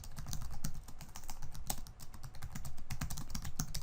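Computer keyboard typing as code comments are entered, a steady run of close, crisp key clicks with uneven rhythm and no talking.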